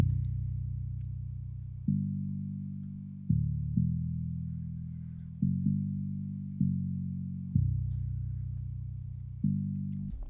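A bass one-shot sample in FL Studio plays repeatedly in a steady pattern. Each note hits sharply, then holds a deep tone that slowly fades until the next one starts.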